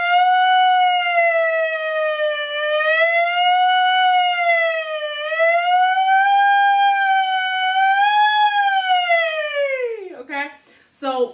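A voice imitates a siren, a sustained sliding tone that swoops up and down in slow waves, then breaks off into a short rough vocal flourish at the end.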